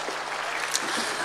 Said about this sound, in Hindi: एक बार सारे लोग मिलकर तालियां बजाइए